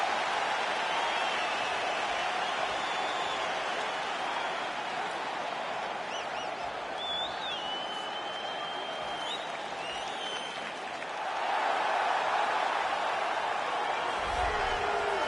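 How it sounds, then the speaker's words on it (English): A large arena crowd at a UFC 3 fight cheers and applauds in a steady, loud roar as a fighter walks out to the octagon, swelling briefly near the end. "the crowd pops as this guy makes the walk to the octagon"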